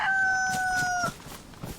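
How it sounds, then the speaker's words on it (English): A chicken lets out a drawn-out, tonal call, fairly close, in the survival video game DayZ, followed by quieter faint clucks and rustling. "I heard the clucking. It's over here somewhere."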